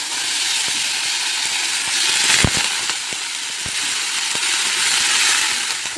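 Potatoes fry in hot oil in a karai, giving a loud, steady, close hiss broken by scattered sharp pops and crackles, with no voices.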